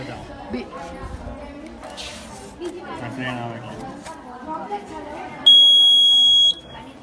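People chatter and talk at a primary school science fair, then a loud, steady electronic buzzer wired to a switch sounds for about a second before cutting off.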